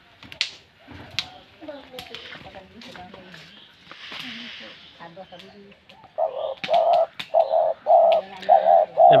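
A hunting decoy dove coos in a run of loud, repeated calls near the end, after a stretch of people talking and children's voices in the background.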